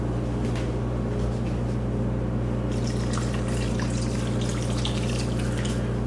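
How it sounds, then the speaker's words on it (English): A cup of filtered water poured into a pot of chili, a liquid splash and trickle that starts partway through over a constant low kitchen hum, close by with no speech. "That's going to need at least a cup of water."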